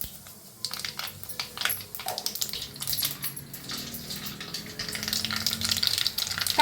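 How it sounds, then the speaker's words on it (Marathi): Cumin and mustard seeds sizzle in hot oil in a kadhai, a crackling, hissing spatter that starts quietly, then builds with irregular pops and grows louder toward the end. "तेल चांगलं तापले, आता त्याच्यात घालूया जिरं. चांगलं भाजले, आता मोहरी घालूया."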